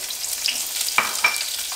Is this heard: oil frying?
yes